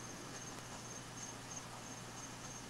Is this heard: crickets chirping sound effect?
yes